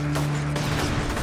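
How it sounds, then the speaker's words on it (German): A quick burst of gunfire, two or three sharp reports over a constant low electronic hum, loud and close. "Da wird direkt geschossen"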